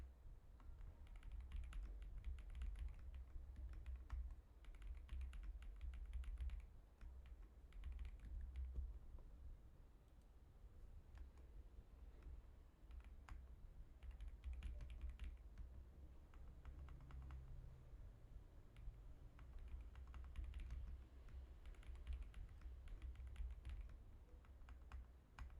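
Code is typed on a computer keyboard, a quiet, continuous patter of key clicks with small pauses, faint and close, without talk.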